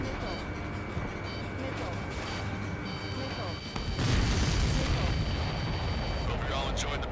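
A supply ship blows up in the jet combat game Ace Combat 7, a burst of booming rumble that swells partway through over steady engine roar and radio chatter.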